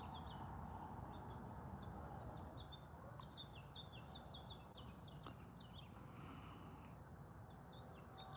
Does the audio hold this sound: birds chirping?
yes